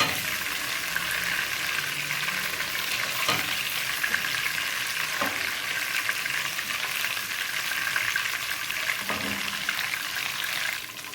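Chicken koftas fry in hot oil for a curry, a steady loud sizzle that runs the whole time, with a few soft clinks and stirring sounds and no voices.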